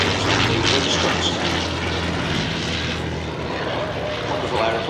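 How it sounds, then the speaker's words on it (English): A Sopwith Camel biplane's rotary engine drones loud and steady overhead at a military air pageant, a continuous rough propeller roar filling the whole stretch with no break. "Wonderful aeroplane, made famous, of course, by Snoopy."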